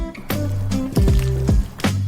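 A filling is stirred with squeezed Japanese mayonnaise in a bowl, giving several wet, squishy spoon strokes and soft smacks at uneven intervals, close and fairly loud, with no voices.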